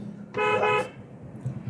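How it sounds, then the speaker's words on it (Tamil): A single short car horn honk, a clear half-second blast over low background rumble, during a driving lesson. "கண்டிப்பாக ஹாரன் தேவை"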